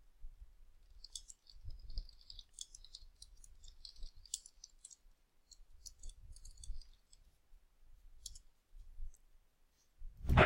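Computer mouse clicking through a website menu, a series of faint, crisp clicks scattered irregularly over about ten seconds in a quiet room, with light handling noise and no talking.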